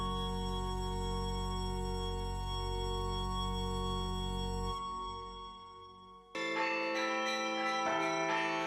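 Church carillon bells in Hondschoote, France ring out with sustained, overlapping tones that linger. A brighter peal follows after a short lull, resonant and fairly close.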